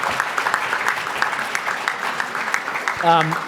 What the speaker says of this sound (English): I want to give you a big round of applause again for the incredible work that you did